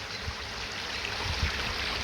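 A woodland stream trickles past a fallen tree that dams it, letting a little water through at the side and the centre, giving a steady, fairly close wash of flowing water with no talk.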